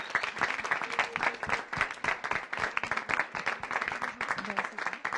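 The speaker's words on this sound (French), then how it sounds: "je crois qu'on peut tous vous applaudir pour tout le travail que vous faites tous les jours" An audience at a French talk session applauds to thank people for their daily work, loud, close, sustained clapping with rhythmic bursts and some voices underneath.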